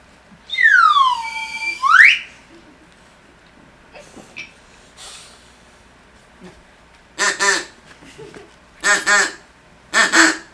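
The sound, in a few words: ducks quacking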